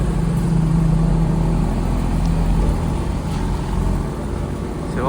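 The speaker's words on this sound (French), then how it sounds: "faire chauffer, je pense, le moteur" A supercar engine, likely a matte black car, idles steadily and loudly up close at a warm-up, holding an even low rumble with slight swells throughout.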